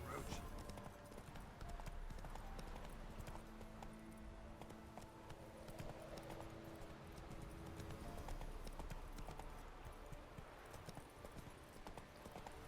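Hooves of Roach, a horse in The Witcher 3, clip-clop steadily at a galloping pace throughout, mixed with game music and ambience and a faint voice in the background.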